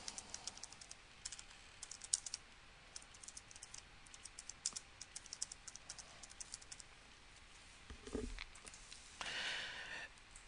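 Quiet, rapid typing on a computer keyboard, with rows of small clicking keystrokes over about eight seconds, then a brief breath or rustle near the end.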